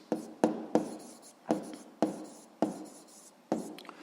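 Pen strokes scratching across paper during a physics exercise, in short bursts with brief pauses between them, close and clear with no talking.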